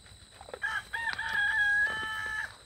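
A backyard rooster crows one loud, drawn-out cock-a-doodle-doo close by, with soft clucks and low chicken chatter before it and behind it.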